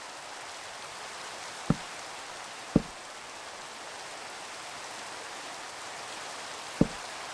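Steady, even rain hisses across the whole stretch in a blocky Minecraft Skyblock world, a constant wash with no talk and three brief sharp clicks breaking through.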